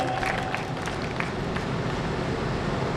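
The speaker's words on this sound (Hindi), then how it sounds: "इस संस्कार के लिए तालियां बनती है" An audience at a Hindi-speaking ceremony applauds, giving a continuous, even wash of clapping that holds at a steady level throughout, with a few sharper claps standing out early on.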